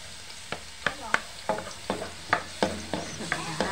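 Garlic sautés in a hot pan, with a steady sizzle broken by about a dozen sharp scraping stir strokes coming at a roughly regular pace, close and without speech.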